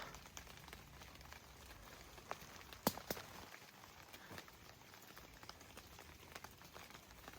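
Rain falls in a mountain forest, making a faint, steady hiss and patter with occasional sharper drips and taps throughout.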